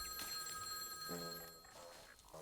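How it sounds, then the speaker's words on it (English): An old telephone rings in the game Baby Steps with a bright, metallic bell tone in two repeated bursts, fairly faint under a steady background drone. "That's a phone."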